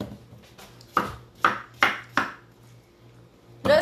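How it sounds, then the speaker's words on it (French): A knife chops zucchini on a cutting board in a home kitchen, five or six sharp separate knocks spaced about half a second apart, close and clear, followed by a brief pause and one more cut. "on coupe le zucchini qu'on va venir hacher"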